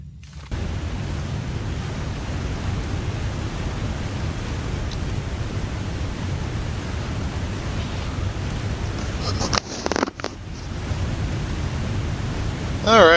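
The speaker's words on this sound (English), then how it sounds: "slowly get away from the sound of the rushing waterfall" Rushing waterfall in the snowy wilderness of The Long Dark, a steady broadband roar of falling water close by and loud, continuing without pause apart from a short interruption near the end.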